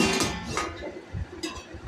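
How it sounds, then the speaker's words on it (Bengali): A lid is lifted off a pot of mustard gravy with pabda fish, giving a brief close clatter of metal with a couple of light clinks over low kitchen hiss. "ঢাকাটা খুলে একটু দেখবো।"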